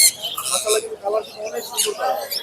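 Red-rumped turquoisine parrots at a bird market give sharp squawks and chirps, loud and close, while people talk nearby.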